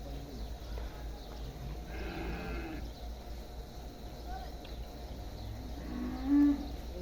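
A low buffalo moo rises briefly near the end over a steady outdoor hum and faint background murmur.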